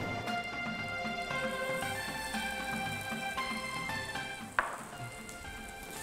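Onions sizzle steadily in a hot pan for Chinese New Year cooking, a continuous crackling fry with a steady hum behind it and one sharp clink partway through.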